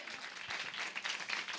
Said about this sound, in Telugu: Just give claps to Jesus.